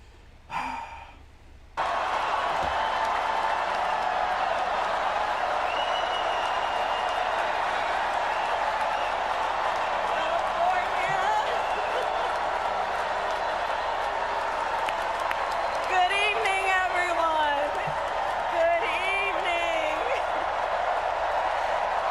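Loud, continuous crowd noise of cheering and applause fills a rap battle venue after a brief quieter moment at the start, with occasional voices and whoops rising above the steady roar.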